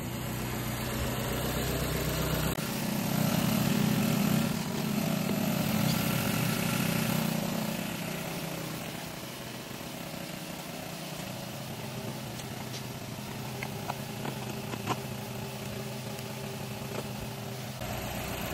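A misfiring Mazda CX-7 engine runs at idle during an idle speed relearn, with an uneven, rough note, louder at first then settling into a steady, slightly stumbling rumble.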